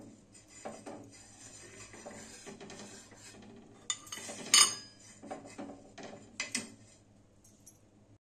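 A burnt iron griddle pan is scrubbed with sugar: quiet, gritty metallic scraping and rubbing comes in uneven bursts, with a few louder clinks near the middle and no talking.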